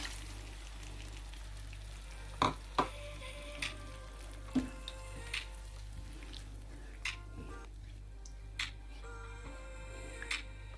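Spice paste cooked down with a little water sizzles softly in a pan, with a faint steady hiss, an underlying hum and scattered ticks and scrapes of stirring.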